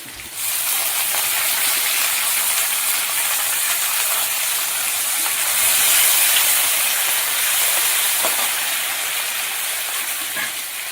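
Garlic and curry leaves sizzle in hot oil for mango ginger pickle tempering, a loud, steady frying hiss that continues throughout without talk.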